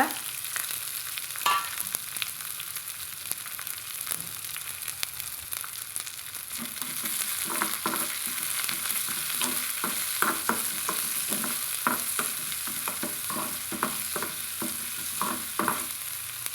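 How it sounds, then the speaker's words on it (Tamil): Chopped banana flower, onion, green chili and curry leaves sauté in a pan, producing a continuous close sizzle broken by a series of rhythmic spatula scrapes through the second half. "பச்சை வெங்காயம் பச்சை மிளகாய் வெட்டி வச்சுக்கிறேங்க அதை போட்டுக்கிறேங்க கருவேப்பிலையை போட்டுக்கிறேங்க அது கூட வாழைப்பூவையும் போட்டுக்கிறேங்க இப்படி ஒரு வதக்கு வதக்கலாங்க"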